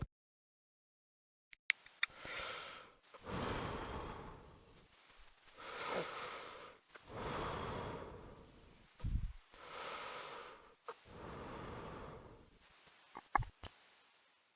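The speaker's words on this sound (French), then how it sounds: "On y entend une respiration de quelqu'un qui semble dans un endroit fermé" Slow, heavy breaths, in and out, repeat in a quiet, dry space with a few faint clicks and rustles between them.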